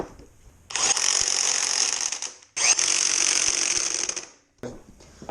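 A hand ratchet tightens a bolt on a Yamaha FZ6 motorcycle during head bearing work, giving two long bursts of rapid close clicking, separated by a brief pause, and ending with a shorter burst.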